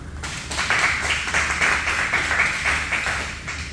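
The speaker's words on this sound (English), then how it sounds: "So give a round of applause for DeMarcus Bowden." A business summit audience in Carrboro claps for a speaker, a steady, fairly loud wash of hand claps that starts at once and holds even throughout, close and alone without voices.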